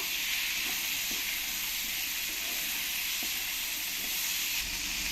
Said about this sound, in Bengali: টমেটোটাও দিয়ে ভালো করে আলুর সঙ্গে একটু কষিয়ে নেব